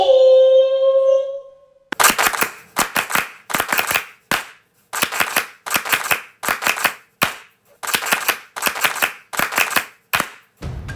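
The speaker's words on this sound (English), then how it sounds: "vendors get together and perform a sambonjime, a Japanese ceremonial rhythmic hand clapping ritual." Vendors at the Ebisuko festival perform a sambonjime, Japanese ceremonial hand clapping: after a brief voiced call, groups clap in sharp, loud, synchronized sets of three plus a single final clap, repeated in rhythmic bursts.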